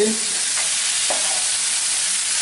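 An oil-free beef curry with green chillies bubbles and hisses steadily in a pot while being stirred, the thick simmering sizzle loud and even with a couple of faint utensil scrapes.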